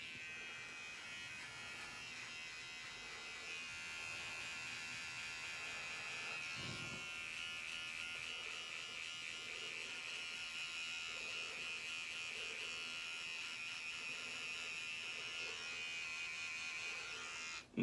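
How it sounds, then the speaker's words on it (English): A precision electric beard trimmer buzzes continuously as it cuts along the cheek line, a steady high-pitched hum held close and alone, with a brief shift in tone partway through. "take this precision trimmer, and I'm going to try to just cut this on the top of my cheek line best I can"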